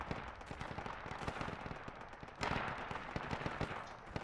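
Rapid gunfire in the tactical shooter Project Reality for Battlefield 2: a continuous stream of quick, fairly distant rifle and machine-gun shots crackling in steady bursts, with a sharper volley partway through.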